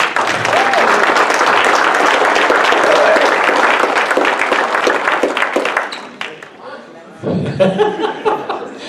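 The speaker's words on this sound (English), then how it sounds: "Let's have a big round of applause for Billy Van Pelt" A banquet crowd at a Freedom Motorsports Park awards night gives Billy Van Pelt loud, sustained applause mixed with chuckles, fading near the end before a voice begins speaking.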